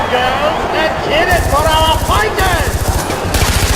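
Rapid automatic gunfire from a Far Cry 4 arena match, bursts of regular shots starting partway through and repeating, loud and close, with a player talking excitedly over the shooting.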